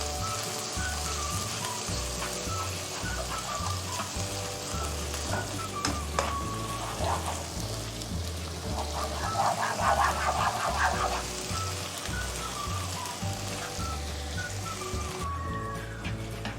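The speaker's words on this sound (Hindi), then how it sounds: "इसको अच्छी तरह फ्राई करेंगे हम।" Liver with a generous amount of ginger-garlic paste sizzling in a pan, a steady crackling hiss with bursts of popping spatter, close and continuous throughout.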